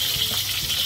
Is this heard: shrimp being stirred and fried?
yes